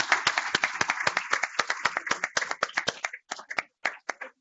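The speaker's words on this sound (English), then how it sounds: "Please join me in another round of applause for our speakers and our sponsor" A conference audience applauding its speakers, quick dense clapping from a modest crowd that thins out into scattered last claps before stopping.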